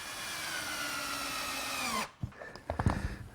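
Drill driving self-tapping pan head screws into wall paneling, a steady high whine lasting two seconds that winds down and stops, followed by a few sharp clicks and knocks from handling.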